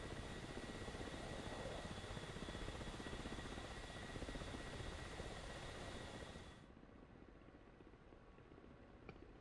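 Gazelle helicopter flying low in the DCS World flight simulator over the Channel map, a steady loud rotor and turbine drone with a constant whine, cutting sharply to a quieter hum about two-thirds of the way through.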